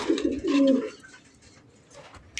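Fancy racer gola pigeons coo while held in the hand for a balance check, a few low rolling coos up close in the first second, then quieter rustling.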